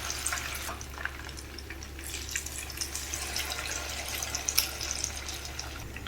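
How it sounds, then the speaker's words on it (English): Mutton chops shallow fry in oil in a pan, giving a soft, steady sizzle and crackle with faint pops, quiet and close, with a low hum underneath and no talk. "To a pan, add some oil and add in the chops to shallow fry them."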